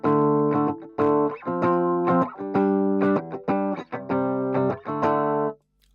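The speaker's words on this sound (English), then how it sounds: "Still a little bit of distortion." An electric guitar through a preamp with slight distortion plays a run of choppy, sustained chords in bursts separated by short gaps, loud and close, with a gritty edge on each attack.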